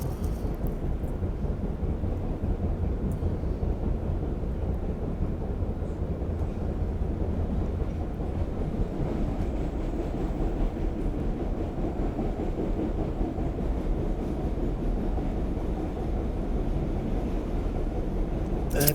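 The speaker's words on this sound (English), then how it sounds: "This is where we're on the subway." A subway train crossing a bridge near Quincy Bay at sunrise, a steady loud low rumble and roar of wheels and cars that runs without a break and drowns out everything else.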